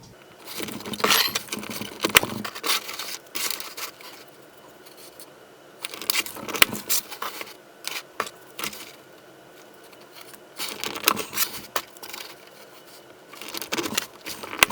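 Scale timber pieces for a model railroad logging camp, cut to 26 scale feet, being trimmed one after another: three clusters of crisp, close snipping and clicking separated by quiet gaps, with no talking.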